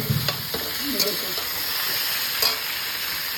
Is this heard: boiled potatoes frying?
yes